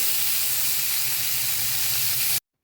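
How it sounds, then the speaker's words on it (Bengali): Cauliflower florets and potatoes fry in hot oil in a kadai, a loud continuous sizzle and hiss close up that cuts off abruptly near the end. "তাই লাল লাল করে ফুলকপি আলুগুলো ভাজবো"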